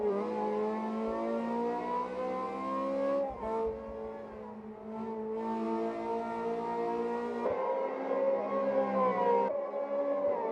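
A Ferrari F355 racing car engine in the F355 Challenge video game, a sustained high-revving howl with rich harmonics that dips briefly on gear changes and climbs again, loud and close.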